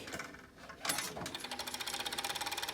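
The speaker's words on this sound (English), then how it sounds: "So I'm going to sew that on." An overlock sewing machine stitches down cord over seams on a decorative random patch, starting after a brief pause and settling into a fast, steady, close mechanical rattle.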